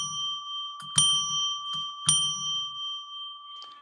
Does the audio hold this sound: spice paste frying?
no